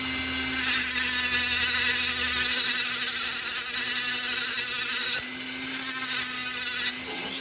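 A small rotary wheel deburring the freshly cut end of an RC gas boat flex drive shaft gives a loud, steady high-pitched grinding whine, stopping briefly twice near the end.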